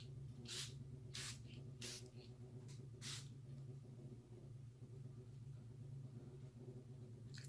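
Makeup setting spray misted from a spritzer bottle in five short hissing bursts, the first four evenly spaced and the fifth after a slightly longer gap, over a low steady background hum.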